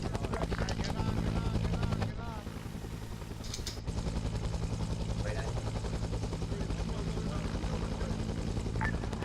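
A military helicopter setting down in a Vietnam war video game, its rotors beating in a steady, rapid thump. The sound dips briefly midway, and faint voices are heard under the engine.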